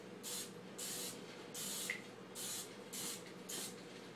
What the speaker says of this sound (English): I always spray stuff with cooking spray, so I'm gonna come over here and spray my pie pan.